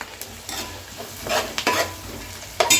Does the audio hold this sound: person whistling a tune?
no